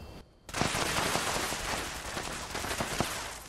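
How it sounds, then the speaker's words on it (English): Gunfire in the video game Fallout 76, a rapid burst of shots that rattles on for about three seconds after a brief silence, dense and fairly distant. "And then you just hear gunshots going off."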